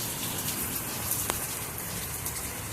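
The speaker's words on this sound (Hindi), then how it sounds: "इतनी ज़्यादा बारिश हो रही है" Heavy rain pours down during a thunderstorm, a dense steady hiss and gush of water, with one brief sharp tick standing out partway through and no voices.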